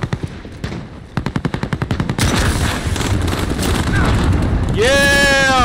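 Rapid bursts of automatic gunfire from a shooting video game build into dense, sustained loud explosive blasts, ending in a rising synthetic whine, while a player talks over the action.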